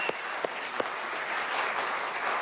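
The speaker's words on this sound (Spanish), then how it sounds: "de aquí te mandamos un aplauso y un beso para Yulimar" Studio audience applauding for Venezuelan athlete Yulimar Rojas, named World Athlete of the Year 2023: a steady wash of clapping throughout, with a few sharper hand claps standing out near the start.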